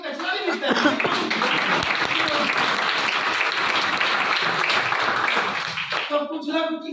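Audience applause and clapping from a crowd at a business sales seminar, steady and loud for about six seconds, then fading out as a voice begins to speak.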